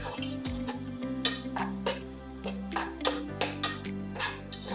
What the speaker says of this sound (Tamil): இந்த வெங்காயத்தோட பச்சை வாசனை போகணும். ஒரு 5 நிமிஷம் இதே மாதிரி நம்ம வதக்கிக்கலாம்.